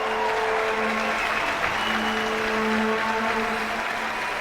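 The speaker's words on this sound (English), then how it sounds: "And the crowd goes wild." A curling crowd at the Players' Championship women's final applauds in a dense, sustained burst after a great shot, a steady wash of clapping with faint voices underneath.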